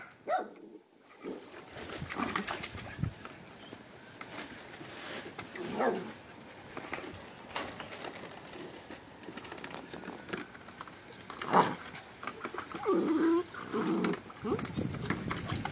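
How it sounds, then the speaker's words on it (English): A pack of dogs barks in short, scattered bursts at moderate distance, mixed with ongoing human voices and outdoor activity. "HupPups, no barking."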